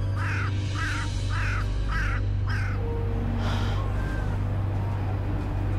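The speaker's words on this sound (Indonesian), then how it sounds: "Suara burung gagak." A crow caws five times in an even rhythm, loud and fairly close over a constant low hum and background noise, followed by fainter bird calls.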